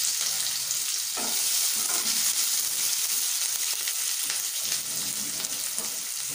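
Long-sliced medium onion frying in hot oil for a Bengali chicken curry, a steady bright sizzle with occasional stirring crackles, close and unbroken, no talking.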